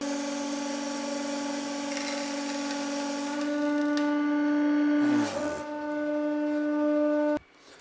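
A 150-ton hydraulic press drives a blade through a 3 mm carbon fiber sheet, its pump whining in a loud steady tonal drone, with a cracking break partway through before the motor cuts off abruptly near the end.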